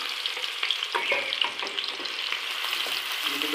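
Onions fry in hot ghee in a kadai with a dense, continuous crackling sizzle, close and fairly loud, and faint stirring scrapes mixed in.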